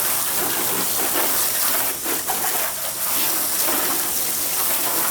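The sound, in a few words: water from a hose spraying a car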